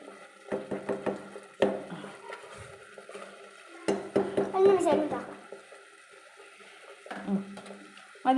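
Semolina stirred and scraped in a cooking pan on the stove, intermittent bursts of scraping and knocking against the pan in uneven strokes, close by, mixed with someone talking and a voice.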